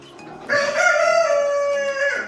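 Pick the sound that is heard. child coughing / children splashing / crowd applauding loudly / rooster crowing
rooster crowing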